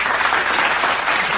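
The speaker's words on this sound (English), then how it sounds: "It's kind of a lame applause" A crowd claps together in a dense, steady burst of applause that stays even from start to finish, close and fairly loud.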